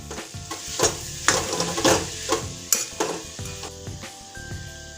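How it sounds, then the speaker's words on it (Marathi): Steamed potatoes tossed and stir-fried in a pan with turmeric, a soft sizzle under repeated scraping and clinking of a spoon against the pan at an uneven rhythm. "टाकून परतून घ्या व नंतर त्यात वाफवलेले बटाटे टाका"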